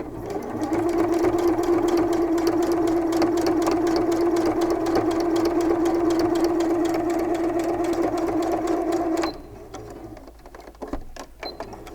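Sewing machine stitching a line 1/8 inch from a seam on pajama pants, a steady close mechanical whirr with rapid needle ticking for about nine seconds before it stops, leaving faint handling clicks.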